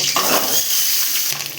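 Onions and tomatoes sautéing in a frying pan with chillies for Tamil-style tomato chutney, a steady close sizzle with brief stirring scrapes and no talking.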